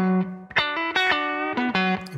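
A distorted electric guitar with effects plays a brief blues lick full of small nuances, sustained notes broken by quick picked changes and bends, loud and up close with no voice.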